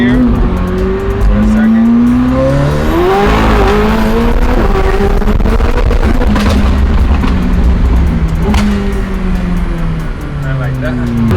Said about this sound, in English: I'm gonna do it just for the pop, so you guys can hear the pop.